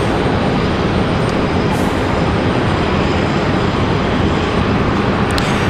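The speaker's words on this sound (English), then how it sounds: "Aeromexico, I believe, is going to be our next departure here." Aeromexico airliner departing from Raleigh-Durham International, a loud, steady broadband roar of jet engines that holds constant throughout, with no talk over it.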